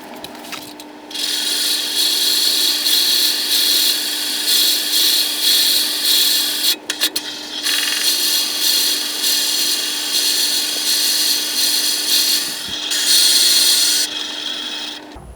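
A wood lathe turning at 250 RPM faces the end of an acorn lidded box, the tool scraping loudly and continuously at close range with a few brief pauses where the cut lifts off.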